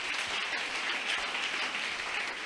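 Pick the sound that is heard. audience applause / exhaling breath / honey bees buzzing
audience applause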